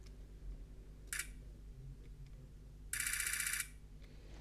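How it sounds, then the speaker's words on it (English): A Nikon 1 V2 compact mirrorless camera fires a burst at 60 frames per second, heard as a short buzzing blur of shutter clicks, then a longer second burst of about 0.7 seconds, both fairly close in a quiet room. "I just cannot believe that a camera like this will shoot up to 60 frames per second"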